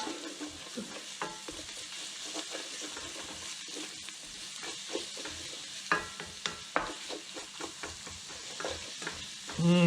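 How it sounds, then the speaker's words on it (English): Garlic fries in a pan with a soft continuous sizzle, while a utensil scrapes and stirs in irregular clicks and taps close up. "Now I'm going to add the garlic. And we'll cook this garlic for about 30 to 60 seconds."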